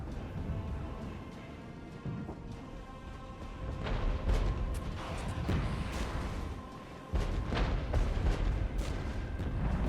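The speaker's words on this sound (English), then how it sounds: "That artillery barrage is actually barely doing anything to those." Rolling artillery barrage in the Regiments war game, T-72 tanks under fire, heard as a dense, continuous rumble of overlapping booms and sharp cracks, with a sudden louder swell near the end and no talking.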